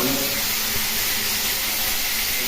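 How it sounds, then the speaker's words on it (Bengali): Rice tipped into spiced potatoes frying in a pot, a loud, steady sizzling hiss that fills the whole moment up close, with no talking. "কষানো হয়ে গেছে, এর মধ্যে চালগুলো দিয়ে দিলাম।"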